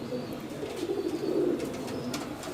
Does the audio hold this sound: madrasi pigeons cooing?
yes